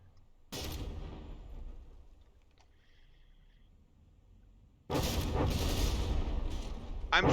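Battleship guns firing in a naval video game: a loud broadband boom at the start fades into a low rumble, then a second, heavier salvo of blasts arrives near the end, with faint clicks in between.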